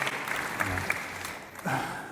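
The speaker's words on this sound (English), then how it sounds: "I would like to invite you all to give him a round of applause." Short burst of applause from a conference audience after a plenary speaker, moderately quiet, steady clapping lasting about two seconds with a slight voice or murmur near the end.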